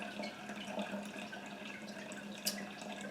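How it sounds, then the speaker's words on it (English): Cold brew made from 2 pounds of coffee steeped in 4 gallons of water drains out of its filter, a steady, faint trickle and drip running throughout with a low hum beneath and one brief sharper splash near the end. "let this drain out completely, and we'll see how much we got out of 4 gallons of water and 2 pounds of coffee"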